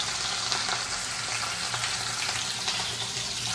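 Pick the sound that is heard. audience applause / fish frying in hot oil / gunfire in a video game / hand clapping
fish frying in hot oil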